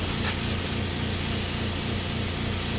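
A small paint spray gun hisses steadily and close up while coating motorcycle track bodywork for a Suzuki GSX-R 1000, a continuous broadband spray with no talk.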